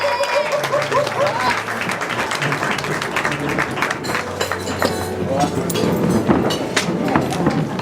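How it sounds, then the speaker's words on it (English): Wedding guests at the Lukes' 2017 reception applaud a friend named Mansfield as he comes forward, steady clapping throughout with voices and chatter mixed in. "Come on, big round of applause"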